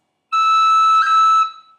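One clear, high tin whistle E sounds alone, with a single quick flicked pip partway through before it fades out.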